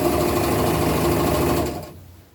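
A sewing machine stitches knit fabric, layered under another fabric for an upcycled hoodie, running in a steady, loud, continuous whir that winds down and fades out near the end.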